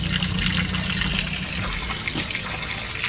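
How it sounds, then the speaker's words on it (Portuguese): Pure spring water gushes steadily from a spout at a roadside spring in Caxambu, Minas Gerais, a loud, continuous rushing splash close by with no talk. "a água pura jorrando direto aqui"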